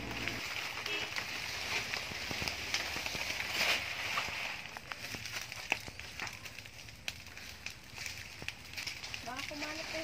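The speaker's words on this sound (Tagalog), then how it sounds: "Dito na rin po namin sinunog yung mga tuyong dahon ng saging" Dry banana leaves burn in an outdoor fire with a steady irregular crackle and popping, while people talk nearby.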